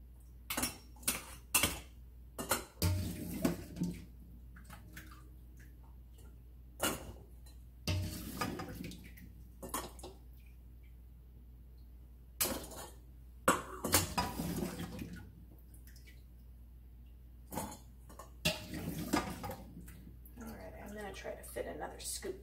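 Cooked potatoes scooped into glass canning jars for Zuppa Toscana soup, with sharp clinks and scrapes of a utensil against glass in scattered bursts, close up, alternating with a person talking.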